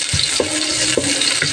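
Onions frying in a pan while being stirred, a steady close sizzle punctuated by several sharp scraping strokes of the utensil against the pan, no voices.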